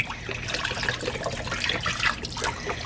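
Liquid poured from a 32-ounce carton into a soup pot, a steady glugging splash and trickle running close up for a few seconds with no talking.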